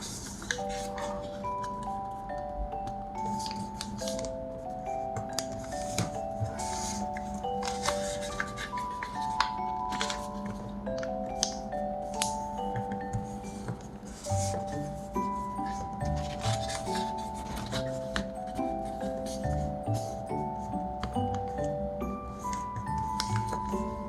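Paper is folded for an origami spinning top, with soft, close creasing and rustling throughout, heard under a continuous background melody of steady musical tones.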